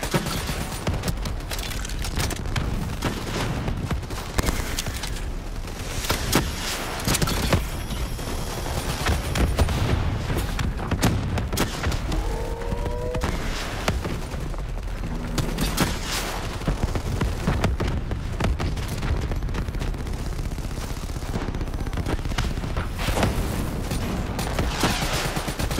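Dense, continuous gunfire and bursts of automatic weapons fill a Call of Duty: Black Ops 3 firefight, with booming impacts layered throughout and steady loud intensity, no clear speech.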